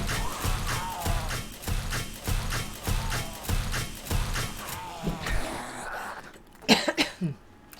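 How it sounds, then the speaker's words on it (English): A man coughing in a fit of repeated harsh coughs, roughly rhythmic and close, trailing into throat clearing and a few scuffling noises at the end. "I was coughing."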